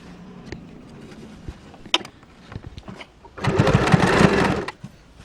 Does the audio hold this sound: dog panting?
no